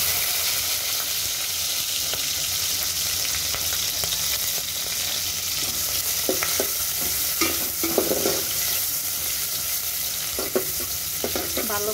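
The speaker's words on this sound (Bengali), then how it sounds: "এখন পরিমাণ মতো তেল দিয়ে দিলাম, পেঁয়াজ মরিচগুলো দিয়ে দিই" Onions and chilies frying in oil, a steady close sizzle with occasional sharp crackles and spatters that sharpen in the second half, with no talk.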